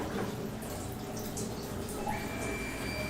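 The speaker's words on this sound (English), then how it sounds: "So, there's a quick little rinse." Tap water running steadily over a knife blade for a quick rinse after sharpening in a kitchen, a continuous close splashing flow.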